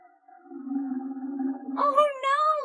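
A voice imitates a lion roar in an a cappella children's jungle rhyme, giving a long low sung growl that rises into a higher wavering cry near the end.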